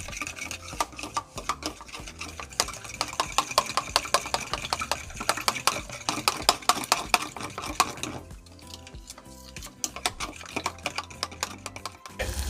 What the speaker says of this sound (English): Okay, I'm gonna stir that in.